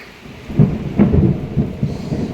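Thunder during a thunderstorm rolls in several loud, close booming rumbles, with rain noise underneath.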